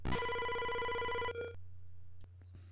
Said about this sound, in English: It was the bell to ring to leave the classroom.